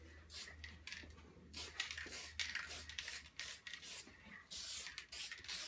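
A spray can of protective varnish sweeps back and forth over an abstract acrylic painting, giving repeated close hissing bursts separated by short pauses, with no talk.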